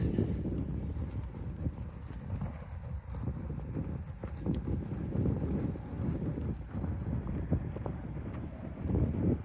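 Strong wind buffeting a microphone outdoors on a windy disc golf course, heavy low rumbling gusts that thump and surge unevenly throughout, loud and close.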